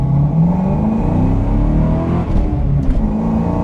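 A high-torque car engine accelerating hard off the line, a loud close roar with rising engine pitch sustained throughout, no talk over it.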